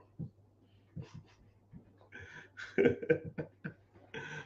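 A dog pants close by in short, uneven bursts of breath, with a few whimpery, voiced tones between the breaths, against a low steady hum.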